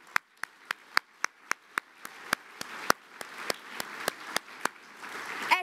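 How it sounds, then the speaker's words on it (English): A small group claps at the BAFTA Scotland awards, roughly a dozen sharp, evenly spaced claps that stay close and distinct rather than a full crowd roar, thickening slightly near the end. "Round of applause for that."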